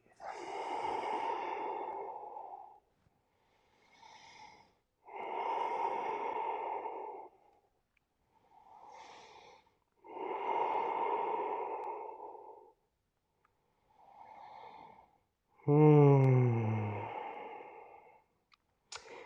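Slow, deep breaths during a yoga sequence: six long inhales and exhales alternating in a steady rhythm, close and clear, with a sharper nasal exhale near the end and no talking.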